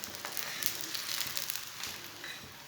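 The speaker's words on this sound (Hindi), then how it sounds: "ऐसे ही उल्टाते हुए इसे पका लेना, इसे जलने नहीं देना, इसे अच्छी तरह पकाना।" Methi paratha, a fenugreek flatbread, cooks on a hot pan as it is turned, giving a steady soft sizzle and crackle with small pops throughout, moderately near and fairly quiet.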